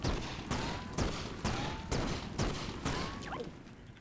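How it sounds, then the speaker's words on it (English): Explosion effects in LittleBigPlanet 3 go off in a steady chain of about eight sharp, booming bursts, roughly twice per second, each one loud and close with a short decaying tail. "So if the explosion is on this guy's head, boom."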